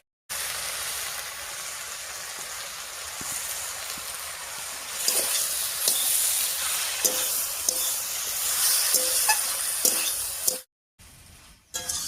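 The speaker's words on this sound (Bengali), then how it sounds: "এবার ধুয়ে রাখা ডালটা দিয়ে দিচ্ছি" Shredded cabbage and washed red lentils cooking together in a pan for a Bengali dish, a soft steady sizzle and hiss with scattered light clicks of stirring that grows louder midway, then a brief cut near the end.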